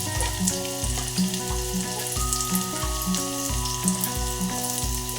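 Potatoes fry with onion and curry leaves in a pan, a steady close sizzle running beneath rhythmic music, with no talking.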